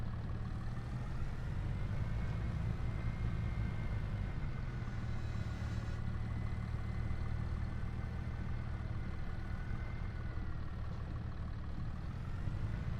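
A tractor engine runs steadily in a logging game, a continuous low rumbling drone with mid-range harmonics that holds an even level throughout, with no voices.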